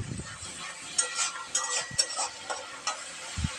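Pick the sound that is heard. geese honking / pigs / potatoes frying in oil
potatoes frying in oil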